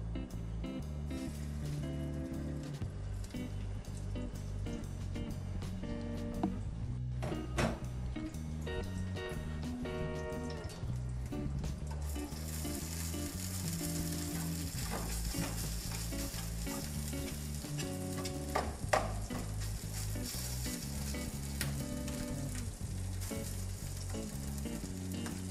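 Chorizo fries in oil in a hot pan with a dense, continuous sizzle and crackle that holds for nearly half a minute, and a steady tonal hum runs underneath throughout.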